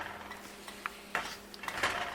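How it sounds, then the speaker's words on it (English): A spoon scrapes and clinks against a pot while apple pie filling is stirred, with faint, sparse taps over a steady low hiss of cooking. "just keep cooking and stirring now"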